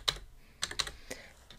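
Quiet, close clicks of a computer keyboard being typed on, a handful of separate keystrokes in an uneven rhythm with no voice over them.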